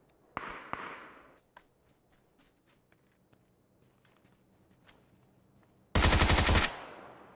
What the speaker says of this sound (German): Von da hinten wird er auch noch angeschossen.